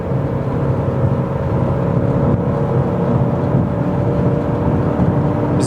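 BMW M3 taken fast through a corner, its engine a loud, steady roar with broadband road and wind noise throughout and no talking.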